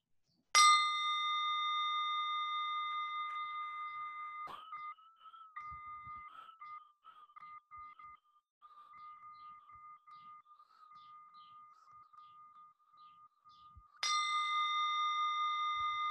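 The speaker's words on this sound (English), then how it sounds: "focus your mind to this bell sound" A meditation bell struck twice during a morning guided meditation, each strike a clear, ringing tone that decays slowly over several seconds, with quiet faint sounds between the two strikes.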